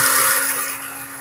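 A Hamilton Beach 10 oz electric coffee grinder, model 80393, whirs with a loud, steady high-pitched motor whine while chopping, tapering slightly at the end.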